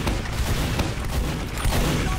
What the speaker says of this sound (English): there's just two people up there who are just spamming, like, sticky jumping grenades on the point